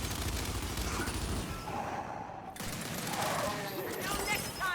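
Pistol shots and other gunfire from the video game Gears 5 crackle in bursts amid layered game combat noise, loud and busy throughout with no clear talking.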